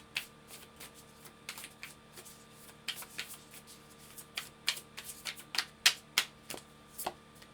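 Oracle cards are shuffled by hand, close up, giving quiet then louder bursts of crisp riffling and slapping in an irregular rhythm, with no talking.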